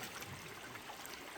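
A river tumbling over rocks like a small waterfall in a jungle setting, a steady close rush and splash of flowing water with no voices.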